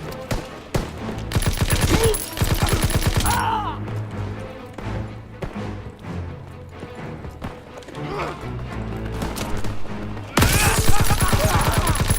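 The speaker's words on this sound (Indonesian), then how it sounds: "Biar mereka tembak-tembakan." Bursts of automatic gunfire and rapid shots from a Call of Duty battle, loud and dense at the start, easing into scattered combat noise mid-clip, then erupting again in a heavy volley near the end.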